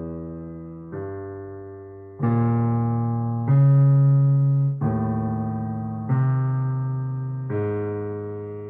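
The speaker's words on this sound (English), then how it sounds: "he transposes it, and he creates chords from it" Dense sustained chords from the opening of a Schoenberg passacaglia, built from a transposed theme, change about every second and a half in heavy, swelling blocks with a slow decay and no voices.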